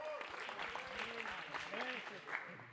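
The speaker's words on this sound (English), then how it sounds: "Give me a round of applause." A crowd claps steadily throughout at a live event, the applause fairly close and even, with voices talking over it.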